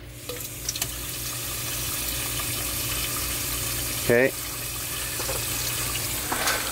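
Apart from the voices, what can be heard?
water running into turtle tank sump chamber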